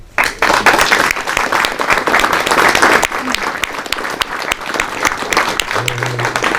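A crowd applauds loudly and steadily at a blessing ceremony in France, dense clapping filling the whole stretch, with a few voices faintly underneath.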